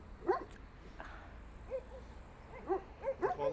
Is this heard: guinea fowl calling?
no